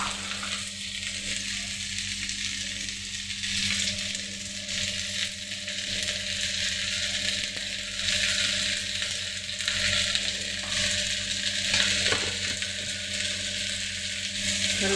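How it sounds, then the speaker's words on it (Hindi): Potatoes and pointed gourd fry with spices in a pan, giving a continuous, fairly loud sizzling hiss over a low steady hum, with no voices. "जो आलू और परवल अच्छे से भून गए हैं, तो फिर हम इसमें वही है बेसिक मसाले"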